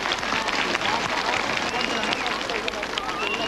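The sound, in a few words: studio audience applause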